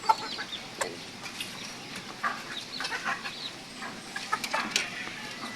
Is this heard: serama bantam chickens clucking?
yes